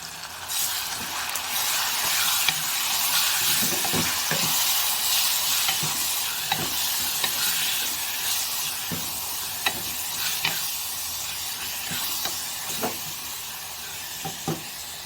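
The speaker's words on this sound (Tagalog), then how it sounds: "Luto ako, guys, ng bagoong." Bagoong shrimp paste sizzling loudly in a pan, with a continuous hiss and a spatula scraping and knocking at irregular intervals, close by and with no voices.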